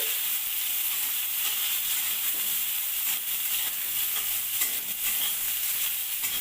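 Chopped hog plum (amra) pieces fry in hot oil in a pan for a Bengali sour dal, a steady close sizzle with scraping stirs throughout and no voices.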